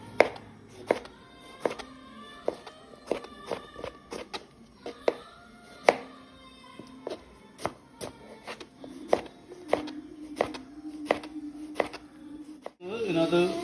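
Onions being chopped with a knife on a board, giving a run of quick, close, crisp taps, sometimes in rapid bursts, with low voices in the background.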